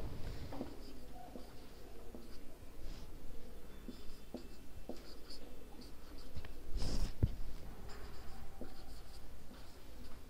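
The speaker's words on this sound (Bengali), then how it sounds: "আমি এটা কলামে লিখব।" Chalk or marker writing on a classroom board during a maths lesson, a steady scratchy stroking with short taps and pauses, close and clear, under a teacher's continuous talk.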